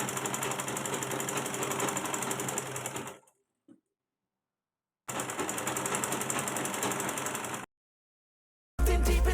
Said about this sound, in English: don't forget to always back stitch when sewing at the beginning and also at the end